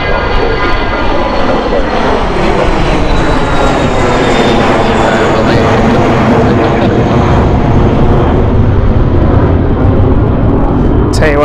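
A business jet accelerates and takes off at London City Airport, its engines producing a loud, steady roar with whining tonal lines that sweep gradually as it climbs away, continuous throughout.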